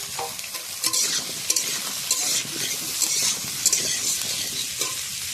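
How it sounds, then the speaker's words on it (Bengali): Potato and snake gourd being stir-fried in a pan over a wood-fired stove, bright sizzling with repeated spatula scrapes and stirring strokes in an uneven rhythm, close and clear without speech. "আলু কষানো হয়ে গেছে, দিয়ে দেবো চিচিঙ্গা"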